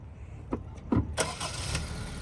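A Toyota Fortuner Legender that was being repaired for a wiring fault starts up. A few clicks and a short starter crank lead into the engine catching and running steadily, close by, with no talking.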